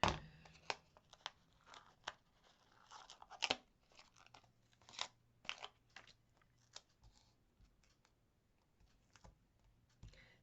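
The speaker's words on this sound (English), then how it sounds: "I'll just trim a bit more off." Card strips are trimmed for a Christmas card, with a quiet series of irregular crisp snips and crunching cuts, close and faint, spread over about ten seconds.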